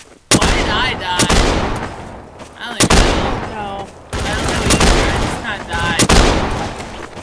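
Repeated gunfire from weapons in the video game Trouble in Terrorist Town, with loud sharp shots and bursts in close succession across the whole stretch, some shots booming, with game noise filling the gaps.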